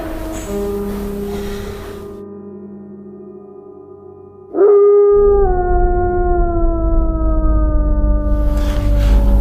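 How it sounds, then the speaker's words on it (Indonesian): In a forest, a long wavering animal howl rises, holds and slowly bends downward in pitch, loud and clear and alone, following an earlier fainter tonal call that fades out. "itu suara anjing hutan"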